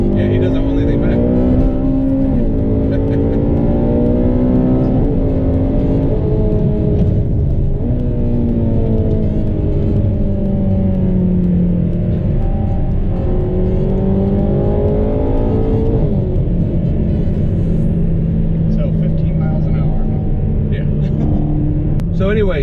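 A Ferrari is driven hard along curvy roads, its loud, close engine rising and falling in pitch through repeated revving acceleration and lifts between bends, with a deep rumbling undertone sustained throughout.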